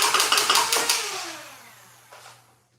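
A Dart Zone Venom Pro blaster's flywheels whir up as a rapid burst of several sharp shots fires, then the motor spins down and fades, with one more brief whirr near the end.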